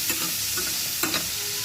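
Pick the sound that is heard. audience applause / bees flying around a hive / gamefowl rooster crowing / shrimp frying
shrimp frying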